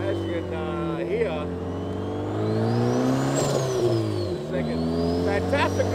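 Car engine in a warehouse pulling at low RPM, a steady deep harmonic drone that swells and eases with the throttle, loud and near, with someone talking over it.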